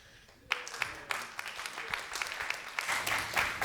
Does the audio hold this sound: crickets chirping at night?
no